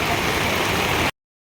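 Steady rain falls during a Jagannath festival outing, a dense, even wash of hiss that runs for about a second before cutting off abruptly, with no voices over it.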